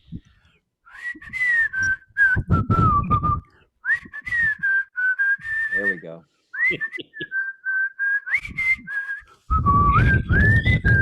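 A person whistles the tune from Robin Hood, a slow, wavering melody in several phrases with short pauses between them, with a brief spoken remark partway through.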